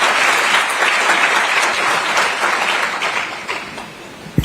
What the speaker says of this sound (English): Another hand of applause to the Right Honourable Speaker.